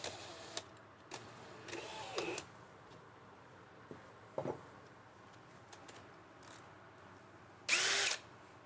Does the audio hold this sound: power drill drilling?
yes